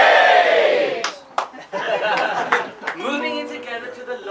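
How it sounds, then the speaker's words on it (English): A wedding crowd cheers and whoops loudly for the couple, a dense roar with scattered claps and shouts that dips briefly and then swells again, with a sung voice coming in near the end. "let me hear you give a cheer for G and G"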